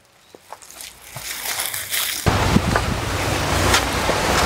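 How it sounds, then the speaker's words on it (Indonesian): Strong wind gusts buffet the microphone outdoors as a steady roaring rush that grows louder partway through, with a few faint footsteps or knocks underneath. "Angin bener banget ya."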